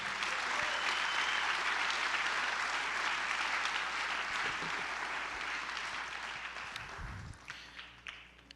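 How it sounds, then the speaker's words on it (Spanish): A church congregation claps loudly and steadily, the applause dense at first and then thinning out toward the end with scattered final claps. "Denle un aplauso fuerte al Señor."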